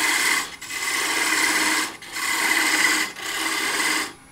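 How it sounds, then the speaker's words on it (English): A parting tool cuts into wood spinning on a lathe while turning a biscuit cutter, a loud steady rasping scrape in three long passes separated by brief pauses, with no talking. "you got to come back over with another parting cut"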